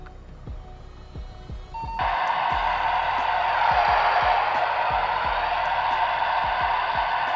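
Loud, steady hiss of white-noise static from a Cobra PX655 walkie-talkie opened to maximum range with the monitor button held, starting abruptly after a quieter stretch with faint rhythmic thumps and continuing without a break.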